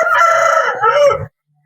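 A rooster crows once in a long, loud, close cock-a-doodle-doo at a poultry farm, cutting off sharply and leaving near silence.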